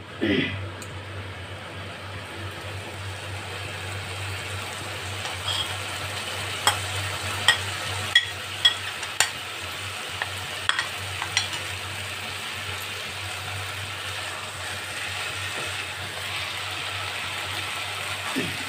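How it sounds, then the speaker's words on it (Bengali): Potatoes and banana flower for a Bengali vegetarian mochar dalna fry in spiced oil, a soft steady sizzle beneath a string of sharp spoon-on-pan knocks while stirring, with a person talking over it. "এবারে আলু আর মোচা দুটোকে খুব ভালো করে আমি কষে নেব।"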